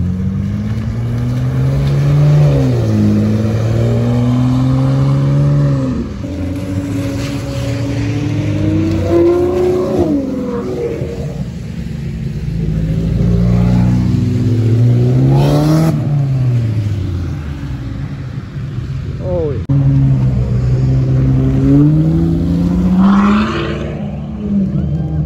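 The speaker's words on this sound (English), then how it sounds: "There's a whole convoy of supercars here." A convoy of supercars, including a McLaren 720S and BMWs, rev their engines loudly at a gas station, with repeated rising and falling engine sweeps and overlapping exhaust roar from several cars nearby.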